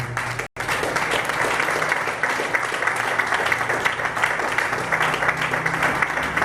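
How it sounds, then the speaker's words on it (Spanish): A church congregation applauds during a worship service, dense, steady clapping filling the room without a break and holding loud and even from start to finish. "Denle un aplauso a Dios,"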